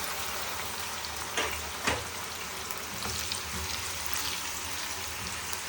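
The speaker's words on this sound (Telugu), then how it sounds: "ఉల్లిగడ్డ కూడా ఫ్రై చేసుకోవాలి." Sliced onions fry in hot oil in a pan for veg pulao, a steady loud broadband sizzle throughout with a couple of brief sharper crackles, no voices.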